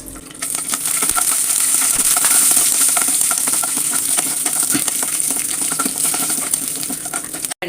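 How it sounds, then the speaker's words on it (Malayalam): Peanuts roast in a pan, giving a dense, steady crackling sizzle with scattered small rattles as they shift, close and continuous until an abrupt stop. "കപ്പലണ്ടി റോസ്റ്റ് ആയിട്ടുണ്ട്."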